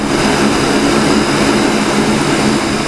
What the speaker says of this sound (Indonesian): Pesawat Super Hercules A1339 mendarat di Bandara Internasional Minangkabau, Padang.